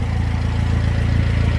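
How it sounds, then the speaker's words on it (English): Exhaust of a 2002 Suzuki Jimny with the small engine running, heard up close as a steady, low, pulsing rumble that stays even throughout, with no speech. "And here's the exhaust."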